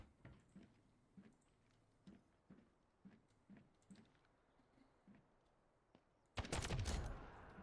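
Gunfire in the video game Delta Force cracks as a series of regular, muted single shots spaced about half a second apart, then a sudden loud close burst near the end.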